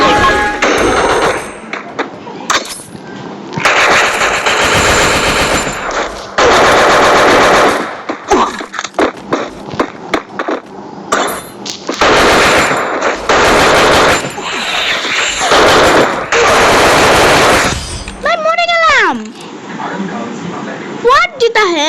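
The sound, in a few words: gunfire in a mobile shooter video game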